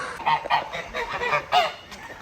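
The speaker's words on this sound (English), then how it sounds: "1 goose, 2 goose, 3 goose." Several big white geese honk in loud, repeated bursts close by on a farm after a flooding event, calls overlapping in quick succession with no talking.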